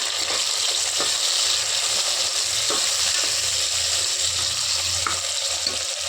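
Three chopped tomatoes sautéing in a pan for a one-pot rice dish, giving a continuous close, even hiss with soft stirring knocks underneath.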